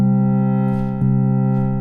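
A Fors Glänta synthesizer holds a sustained tone with its start level raised, giving a rich harmonic drone with a slight timbre shift and a brief blip near the midpoint, loud and alone.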